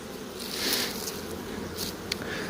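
Honeybees buzzing around an open hive, a steady close hum with occasional louder passes of single bees near the ear.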